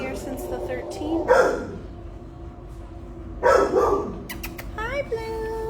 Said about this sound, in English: We have a beautiful cattle dog named Blue who's been here since the 13th.